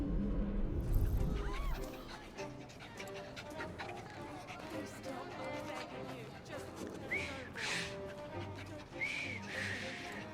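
A character whistling in the video game Assassin's Creed Syndicate, short tuneful whistles over ambient game sound and a dog's panting, with speech in the scene.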